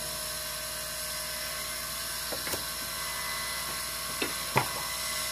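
A lathe turns a label cast blank with a steady high mechanical whir, and the cutting tool peels off ribbons with a few brief scraping ticks, close and moderately quiet, without talk.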